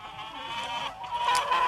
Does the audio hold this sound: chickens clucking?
yes